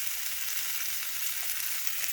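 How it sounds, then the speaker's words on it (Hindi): Paneer tikka with capsicum sizzling as it roasts, a steady close hiss of frying with no voices over it. "So with this, the roasting part of our paneer tikka is over."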